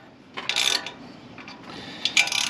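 A ratchet snugging header bolts fitted with Remflex gaskets, two close bursts of quick clicking separated by a short pause, loud against a quiet background.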